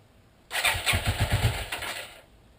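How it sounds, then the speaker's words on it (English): A 1984 Yamaha Maxim 400 motorcycle, fitted with a new battery and on choke, cranks with a quick rhythmic churn of the starter. It briefly catches and then dies out, close and fairly loud with no talk. "Okay, let's fire this thing up, see if the new battery works."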